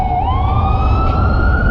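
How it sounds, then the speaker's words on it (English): Ambulance siren on a street, a steady wailing tone sliding upward in pitch and holding, loud and close, with no talk over it. "Just an ambulance."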